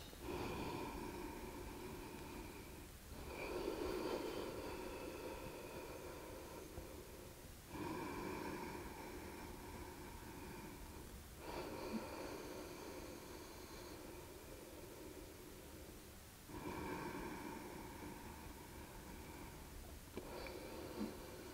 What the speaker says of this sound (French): Trois respirations.